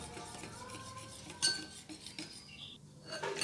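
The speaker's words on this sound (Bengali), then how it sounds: "এবার দইটা ভালো করে ফেটিয়ে নেব।" Two cups of sour yogurt are whisked in a large bowl, with utensil clinks and scraping against the bowl, quiet and uneven, with a few louder knocks.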